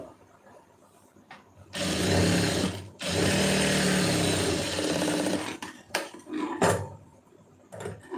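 A sewing machine stitches a folded hem strip of blouse fabric in two long, steady whirring runs, with brief pauses and short bursts of stitching between them, close and loud with no talking.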